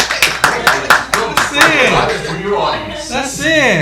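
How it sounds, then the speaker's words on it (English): A small podcast group claps and cheers, a burst of sharp hand slaps in quick succession, then loud excited voices and whoops carrying on over the fading applause. "clap, guys, clap!"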